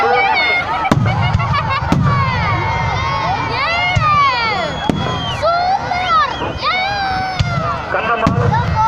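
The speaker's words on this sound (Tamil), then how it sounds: "இப்பொழுது விடப்பட்ட வானங்களாவது நரேந்திரன் ஃபயர் ஒர்க்ஸ் காஞ்சிபுரம்" Sharp firework rocket bangs crack out repeatedly at a Mariyamman temple festival in Karur, supplied by Narendra Fireworks of Kanchipuram, over a loud, constant crowd roar with shouting children and an announcer's voice.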